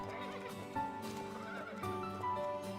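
Horse in a Wii horse-riding video game, whinnying against a sustained musical background with a few soft hoof-like thuds, fairly quiet overall.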